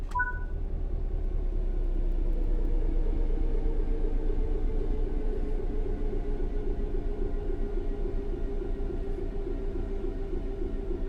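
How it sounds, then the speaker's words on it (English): A train in the Train Sim World 3 video game coasts on level ground, giving a steady low rumble with a faint tonal hum that slowly drifts downward, continuous and unbroken with no talking. "The train will then coast on level ground, and the train will only slow down very gradually."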